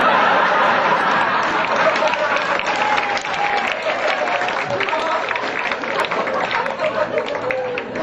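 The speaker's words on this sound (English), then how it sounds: "A weird reaction, the clap." Audience applause at a live stand-up comedy show, a steady loud wash of clapping from a crowd with scattered laughter and chatter mixed in.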